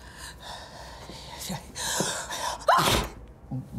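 A single sharp sneeze bursts out near the end of a quiet indoor exchange in a Russian crime drama, loud and close, after a stretch of low room noise.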